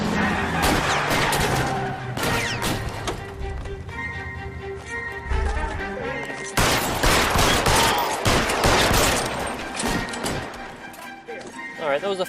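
Shootout gunfire in the video game L.A. Noire: repeated loud shots and bursts crack out across the stretch, thickest in the second half, over a bed of game music, engine noise and occasional voices.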